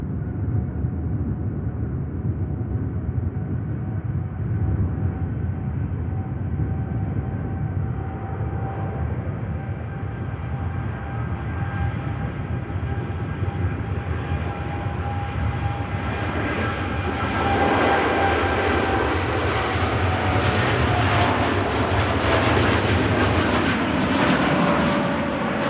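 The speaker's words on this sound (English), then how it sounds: "Meanwhile, we can watch this stunning Dreamliner." A Boeing Dreamliner at Manchester Airport: a broad, loud, steady jet engine roar with whining tones that rise and swell louder toward the end, heard without talk.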